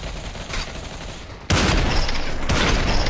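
AWP sniper shots in a competitive shooter game: a sharp loud burst cuts in halfway through after quieter game ambience, followed by sustained dense gunfire noise, no talking.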